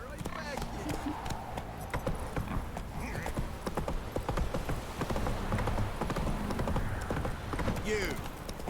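Roach, a horse in The Witcher: Wild Hunt, gallops with fast rhythmic hoofbeats close by, mixed with game music and effects, while characters talk over it.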